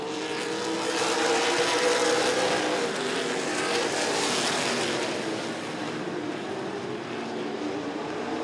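Late model race cars roar down the backstretch at Rockford Speedway in a steady, loud engine wash that swells and then eases slightly as the pack passes, with no talking.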